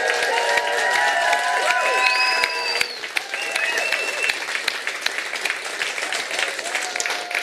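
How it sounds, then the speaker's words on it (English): An audience claps and cheers for a team presenting the Munro MK_1 electric off-road pickup at its debut event, a dense, loud burst of applause that thins slightly after a few seconds but carries on steadily with scattered whistles. "I want you to all give them a massive round of applause."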